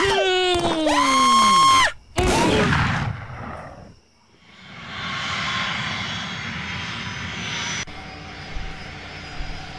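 A cartoon airplane engine drones in flight, opening with loud swooping, pitch-sliding whines and roaring passes, then a brief drop to near silence before a steady engine hum and rushing wind return.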